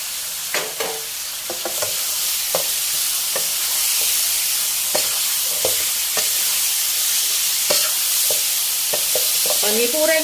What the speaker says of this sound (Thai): แล้วเดี๋ยวผัดต่ออีกแป๊บเดียวค่ะ